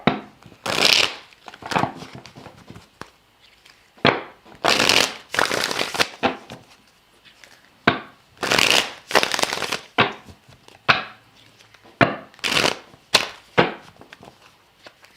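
Tarot cards shuffled by hand in a series of crisp riffling bursts, each about a second long, repeating with short pauses between them, close and fairly loud.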